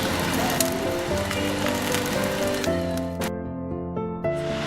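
New Zealand lamb chops sizzle steadily in a curry sauce in a pan, a loud continuous crackle that stays close throughout, with a tonal hum and music in the background.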